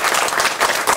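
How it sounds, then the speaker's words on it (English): Children applaud a mayor at a read-aloud event for a picture book: a second of dense, steady clapping from a small group, with no talking over it. "give the mayor a big round of applause."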